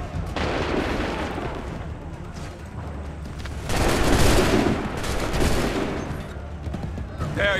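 Musket volleys in the Assassin's Creed 3 video game, dense continuous crackling gunfire and booms that swell louder midway, with shouted voices mixed in.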